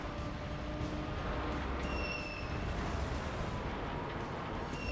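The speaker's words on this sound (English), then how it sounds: "someone behind me is getting really extra with the rockets" Rocket explosions from car-mounted weapons in the Gas Guzzlers Extreme vehicular combat game, heard as a dense, continuous rumble of blasts and booms with steady engine noise underneath, loud throughout and no distinct pauses.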